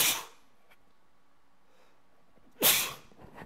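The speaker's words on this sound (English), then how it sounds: "I'm about to sneeze." A single loud, sharp sneeze bursts out near the end after a quiet stretch, with a short soft exhale right at the start.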